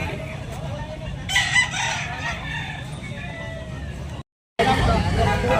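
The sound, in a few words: rooster (stag) crowing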